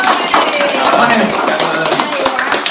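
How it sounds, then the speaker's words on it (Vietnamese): An audience claps during a spinal adjustment session, a steady run of hand claps with voices talking over it throughout. "Rồi các chị cho chú Thái một tràng pháo tay."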